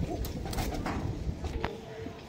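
Pigeons coo at a home loft of high-flying birds in Liluya, Howrah, soft throaty calls close by over a busy background with faint voices.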